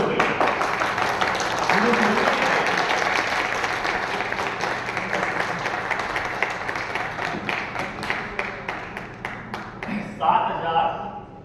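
An audience claps steadily for several seconds. The applause thins into scattered claps near the end, and someone speaks briefly over it.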